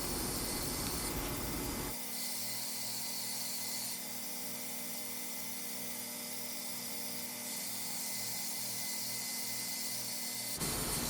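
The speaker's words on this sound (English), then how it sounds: "I'm using the 10-inch wheel, which is pretty nice. It's just a matter of keeping it straight and keeping the grinds even" A leaf spring machete blade being ground on a 10-inch grinder wheel, a continuous loud hissing grind that holds steady for several seconds, then breaks off with a brief pause near the end.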